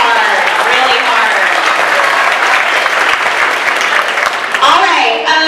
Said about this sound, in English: If we could give all those students a round of applause.